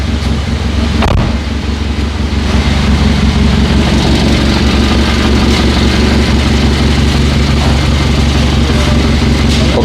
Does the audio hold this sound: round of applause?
no